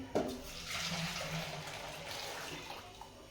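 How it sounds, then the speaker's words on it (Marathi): Hot water pours steadily into washed lentils for a few seconds, a continuous splashing rush with a brief knock at the start. "ते पाणी गरम झालेलं आपल्याला काय करायचंय जी आपण डाळ धुवून घेतली होती त्या डाळीमध्ये ओतून घ्यायचंय"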